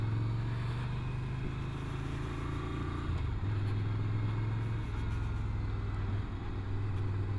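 Ducati Scrambler Desert Sled motorcycle engine while riding in second gear on a road: a steady, smooth low drone with continuous rumble and wind noise throughout, loud and close, without talk.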